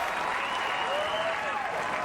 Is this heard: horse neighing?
no